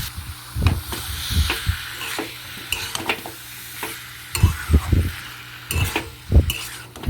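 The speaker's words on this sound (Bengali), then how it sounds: "এঁচড় আর আলুটা দিয়ে দু তিন মিনিট মতন খুব ভালোভাবে আমি কষিয়ে নেবো" Young jackfruit and potato sauté in a hot pan, a steady sizzle broken by repeated scraping and stirring knocks of a spatula, close and clear with no talk.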